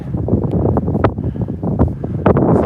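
Steady wind buffeting the microphone outdoors on a hilly gun dog outing, a low rumbling roar with gusty rustling throughout.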